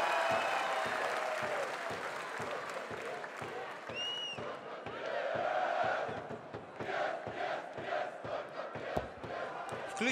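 Football supporters at a Belarusian league match between Dynamo Brest and Belshina in a stadium, a steady wash of crowd noise with chanting and clapping rising and falling throughout, distant and broad, with no clear talk over it.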